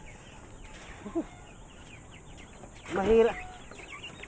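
Geese and ducks squabbling on a farm, scattered honks and clucking calls with one louder burst of squawking, while a person says a brief word.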